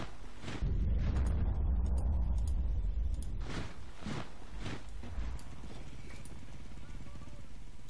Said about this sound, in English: They do have a mortar somewhere, don't they?